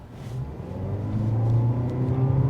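A 2023 Toyota Prius hybrid engine droning and gradually rising in pitch and loudness as the car speeds up, heard steadily from inside the cabin.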